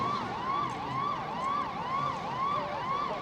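An ambulance siren near a fire scene wails in quick, regular rising and falling sweeps, repeating about twice a second, steady and fairly close, with faint background traffic rumble beneath.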